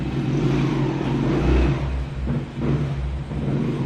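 A motor tricycle and cars pass on a nearby street, a loud rumbling engine swelling and fading with traffic whooshing by.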